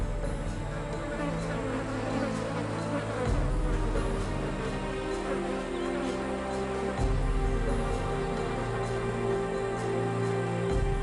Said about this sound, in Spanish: Las moscas se agrupan en las heridas abiertas.